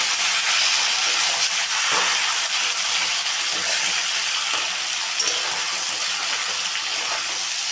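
Chicken pieces frying in a pan with salt and ground cumin give off a loud, continuous hissing sizzle, with a few faint stirring knocks and no talk.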